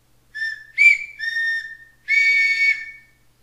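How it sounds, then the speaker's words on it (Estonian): A three-pipe wooden block whistle of carved lime wood blown in four clear, shrill blasts, the last one longest, loud and close, with no voices. "See on 3-toruline plokkvile."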